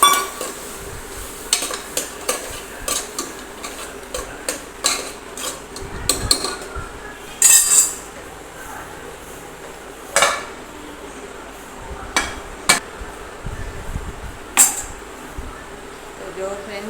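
Chopped cluster beans are stirred in hot oil with spices in a pan, with repeated clinks and scrapes of a spoon against metal over a faint background, and occasional speech.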